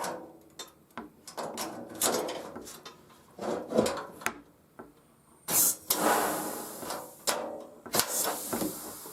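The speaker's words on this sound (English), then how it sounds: "Much easier using a pneumatic rivet puller than a manual" A pneumatic rivet puller sets rivets on a step ladder, giving a string of sharp irregular snaps and hisses with short pauses between, close and fairly loud, without talk.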